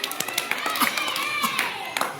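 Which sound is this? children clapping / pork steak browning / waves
children clapping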